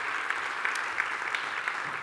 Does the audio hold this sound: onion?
no